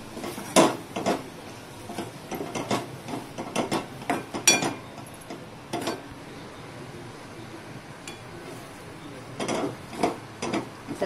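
Crushed peanuts are stirred in a pan, with a spoon scraping and clinking against the metal in irregular taps and short knocks over a quiet background.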